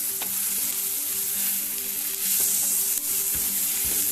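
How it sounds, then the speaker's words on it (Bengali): Dried red chillies sizzle loudly in hot oil for a Goan-style chicken vindaloo, a dense continuous frying hiss close up, with a few soft stirring knocks and no talk. "আমি 4টে মতন শুকনো লঙ্কা দিয়ে দিলাম।"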